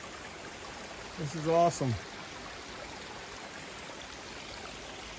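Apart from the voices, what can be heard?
water flowing in a creek on the Appalachian Trail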